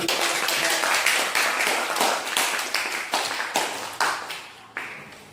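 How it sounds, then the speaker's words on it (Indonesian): Classroom applause from a group of students, a dense run of clapping that carries steadily and fades toward the end. "Beri aplaus dulu."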